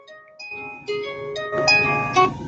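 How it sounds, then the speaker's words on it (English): A phone-style alarm goes off indoors as a sequence of bright tonal beeps and chimes, starting faint and building louder over a couple of seconds, with layered melodic tones and no talking. "That's my alarm telling me it's time to start the show"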